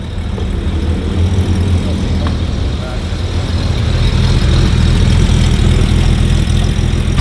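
Porsche cars, including a 964, arriving at a Porsche and Coffee car meet in South Melbourne: a loud, close, steady engine rumble that swells slightly midway, with people talking over it.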